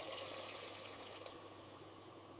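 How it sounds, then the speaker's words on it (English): Hot mutton stock poured into a cooking pot for Kashmiri Wazwan meatballs, a steady liquid stream splashing and trickling for a couple of seconds, close and moderately quiet. "Now pour in the hot mutton stock."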